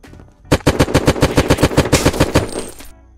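Rapid automatic gunfire in the Unturned survival video game, a loud close burst of about fifteen evenly spaced shots rattling off in quick succession, then stopping abruptly, with no talk over it.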